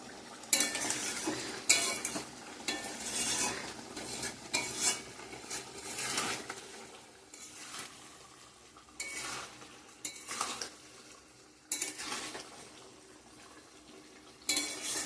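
Chicken being stirred and fried dry in a pan: repeated rhythmic scrapes and clanks of a spoon against the pan, close and fairly loud, over a low continuous sizzle.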